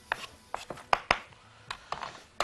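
A whole onion is rubbed against a kitchen grater, giving a run of sharp, close scraping strokes in uneven rhythm, separated by short pauses, with no talk.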